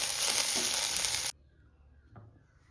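Ingredients for a chicken biryani paste fry in a pan with a loud, dense sizzle that cuts off abruptly after about a second, leaving near silence and one faint knock.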